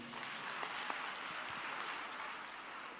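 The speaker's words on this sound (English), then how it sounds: "Can we clap for him, please?" Faint, distant crowd applause fills a large conference session, a soft continuous patter of many hands without distinct individual claps.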